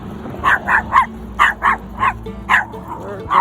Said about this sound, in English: A little burst of barking there for seemingly no reason.